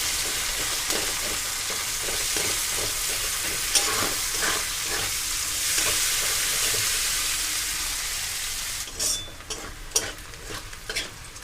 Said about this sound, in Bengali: পেঁয়াজ কুচিটা নরম হয়ে আসা পর্যন্ত ওয়েট করব ততক্ষণ পেঁয়াজটাকে ভেজে নেব লো টু মিডিয়াম ফ্লেমে